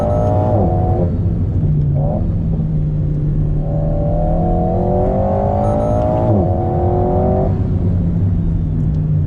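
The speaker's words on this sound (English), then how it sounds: "Change down, full throttle." A 2019 Alpine A110 engine revs hard at full throttle from inside the cabin, rising in pitch through the gears with a sharp shift and a continuous loud drone, no talking.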